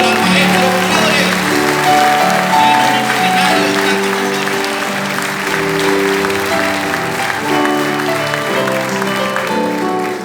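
A live concert audience applauds maestro Flores at a guarania performance, a steady wash of clapping that stays loud and continuous while sustained music tones ring underneath.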